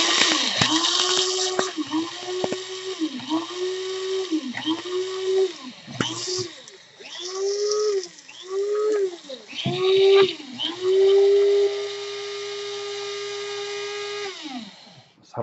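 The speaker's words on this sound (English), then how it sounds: "Halfway through, I'll have to give it a bit of a shake and tap. Make sure you get all those coffee to the blade." A Krups F203 blade coffee grinder grinding coffee beans, its motor whining in short repeated pulses that rise and dip in pitch, then running in one longer steady burst, close and loud.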